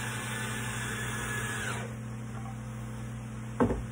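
A powered driver runs screws into a small kids' rocking chair during assembly, giving a steady close whine for about two seconds before stopping, followed by a quiet stretch and a brief sharp click near the end.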